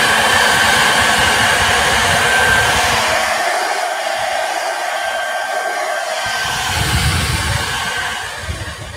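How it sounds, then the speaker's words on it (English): A handheld blow dryer drying paint on a stencil roars with a constant, loud, breathy whoosh that runs continuously and alone, its tone shifting slightly as the airflow is moved around. "I'm going to use my blow dryer."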